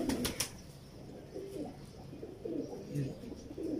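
Pet pigeons coo in short, soft repeated calls, with light flutters and rustling and someone talking nearby.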